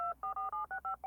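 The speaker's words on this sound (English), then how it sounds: "He dialed a number he knew by heart." Touch-tone telephone keypad dialing a number: seven crisp dual-tone beeps in quick, even succession, clear and close with no talk.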